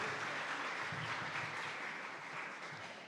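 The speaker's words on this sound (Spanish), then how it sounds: "Denle un aplauso al Señor, que se escuche fuerte" A Spanish-speaking church congregation applauding together during a worship service, a dense steady clapping that fills the room for a few seconds without any voices over it.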